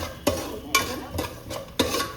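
Mace, cardamom, nutmeg and rice being stirred and fried in a pan for poppy-seed payasam: four sharp spoon scrapes against the pan at a steady rhythm over a soft sizzle, close and fairly quiet.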